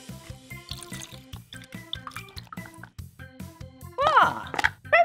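Water poured through a funnel into a balloon in a classroom, a rapid run of dripping, gurgling splashes that grow louder near the end, while a voice squeals briefly.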